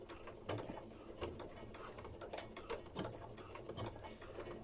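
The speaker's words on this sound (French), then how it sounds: "on fait une couture au point droit" A sewing machine runs a straight stitch on a fabric headphone cover, a faint close mechanical whir with rapid ticking needle strokes and a few brief pauses.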